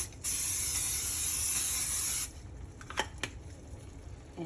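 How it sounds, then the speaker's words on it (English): A steady aerosol hiss of cooking spray for about two seconds, followed by quieter kitchen clatter and a couple of sharp clicks. "So we're going to spray the pan,"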